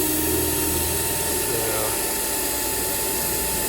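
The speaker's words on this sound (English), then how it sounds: "I'll show you drilling on one too" A steady, loud mechanical whine from a power drill drilling through metal on an Airstream trailer grinds on without pause, close by, with a constant high-pitched hum over it.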